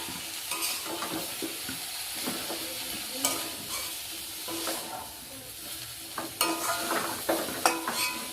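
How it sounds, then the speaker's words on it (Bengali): Broccoli and potatoes sizzle in hot oil in a pan, with a steady frying hiss broken by repeated scraping and clinking strokes of a spatula as the vegetables are stirred. "আমার ব্রোকলিটা ভাজা হয়ে গেছে, এবার আলুর এক সাইডে আমি নামিয়ে নিচ্ছি।"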